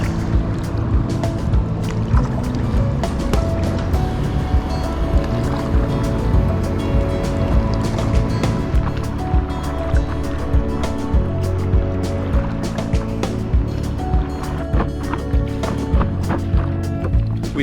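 A stand-up paddleboard moving along the Swan River gives repeated paddle strokes and water splashes over a broad, steady watery wash and wind, close by with a fairly even rhythm.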